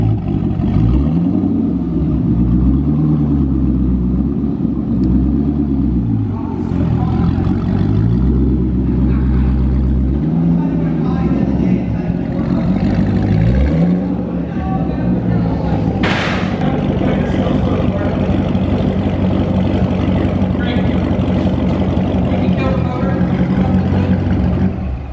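A stock Corvette C6 Z06 engine on a dyno, loud and close, revving in repeated rising and falling sweeps before holding a sustained high-rpm roar, with brief shouts over it.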